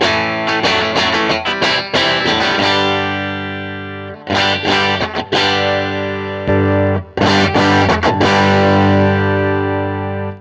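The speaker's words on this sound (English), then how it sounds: "Clean sound again." Electric guitar played clean, plain without a boost pedal, strumming bursts of chords in three phrases with short pauses between, loud and ringing with no talk.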